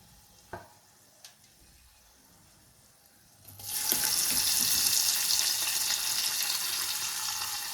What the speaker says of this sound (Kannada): ಈಗ ಇದ್ರ ಮೇಲೆ ನಾನು ಬ್ಯಾಳೆ ಹಾಕಿ ಕೈ ಆಡಿಸ್ಕೊತೀನಿ.